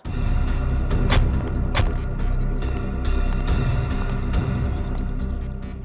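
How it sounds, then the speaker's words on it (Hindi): The ACP's car runs close by with a steady engine rumble, broken by a few sharp clicks and knocks across its length. "एसीपी साहब की गाड़ी।"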